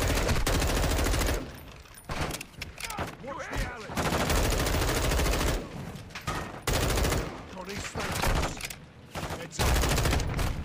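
Bursts of automatic gunfire and rapid shots from Call of Duty: Modern Warfare 2 campaign combat, loud and repeated in dense volleys with brief lulls, with voices talking amid the shooting.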